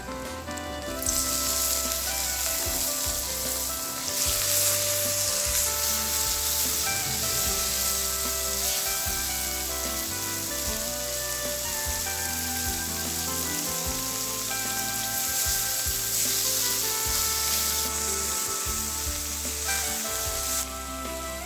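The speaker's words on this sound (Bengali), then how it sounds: "চিংড়ি মাছগুলো যেন ভাজা ভাজা হয়, এতে করে খেতে ভালো লাগবে।" Shrimp frying in a pan with spiced pumpkin flowers gives a loud, steady sizzle with occasional stirring scrapes. It runs unbroken for the whole stretch, with no voices.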